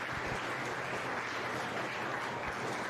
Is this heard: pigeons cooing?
no